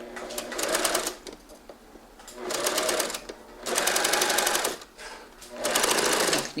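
Sewing machine stitching a blouse seam in four loud bursts of rapid stitching, each about a second long, separated by short quiet pauses.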